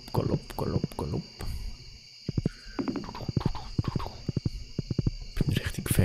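Horse hooves clip-clop at a steady galloping rhythm while riding in the video game Stardew Valley, with a constant high-pitched insect-like chirr and occasional speech underneath.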